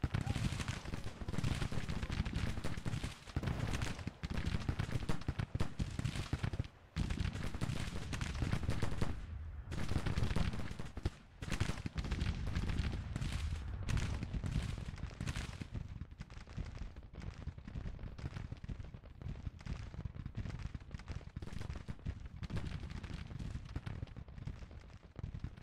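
Dense, continuous musket and artillery fire from a Civil War strategy game battle, booming and crackling without pause for the whole stretch, with a voice sometimes heard over it.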